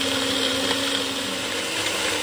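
A mixer grinder whirring steadily as it grinds chutney for idli and dosa into a paste, a loud continuous motor whine close by.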